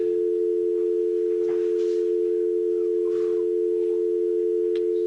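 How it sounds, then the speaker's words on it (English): A steady telephone dial tone holds alone for about five seconds after a call drops, a constant loud hum with only faint background noises beneath it. "Just got a dial tone, nothing else."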